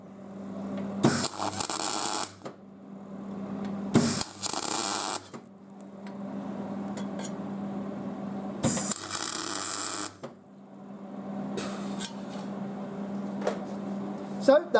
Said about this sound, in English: I'm going to try and get some weld down in there